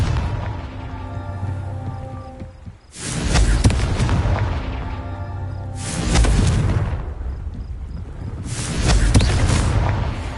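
The Confringo spell's explosion in the video game Hogwarts Legacy: three loud, close blasts a few seconds apart, each a sudden roaring burst that swells and slowly dies away.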